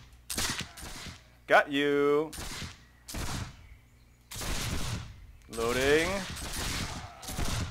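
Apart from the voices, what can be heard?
shrapnel shot cannon fire in a Caribbean pirate video game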